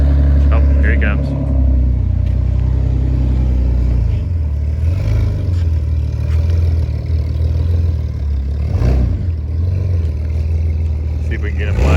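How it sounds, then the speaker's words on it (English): Deep, throaty rumble of a Jeep LJ off-road build's engine and exhaust running close by in low range, rising and falling slightly, with people talking over it. "Can you leave the exhaust like this? Yeah, it sounds pretty good."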